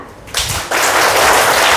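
A group of children clapping their hands together in a classroom action game, starting as a few sharp claps and swelling into a loud, dense burst of applause.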